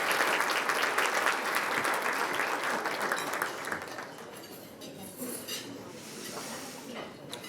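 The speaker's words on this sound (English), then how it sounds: "So a round of applause for the Burlingame Rotary" An audience at a Chamber of Commerce annual meeting claps for the Burlingame Rotary, dense applause that starts strong and gradually thins out, with faint clinks of dishes in the room.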